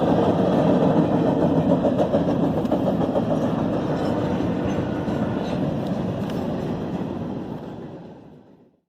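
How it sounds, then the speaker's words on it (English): A train rumbles past close by with a steady clatter of wheels, then gradually fades away into silence. "I hear a train. I hear a train. There it goes."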